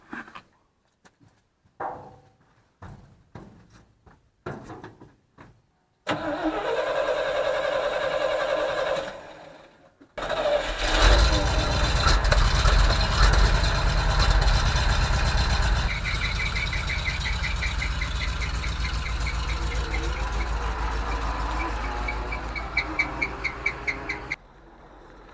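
A GMC C7000 all-wheel-drive dump truck engine cranks in a few short bursts, catches, and settles into a loud steady diesel idle, with a brief drop before it revs up and keeps running close by.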